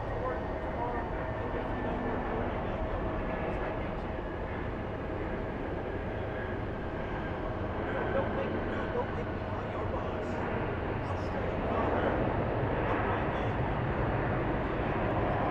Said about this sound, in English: let's finish it off with an American Airlines 737 landing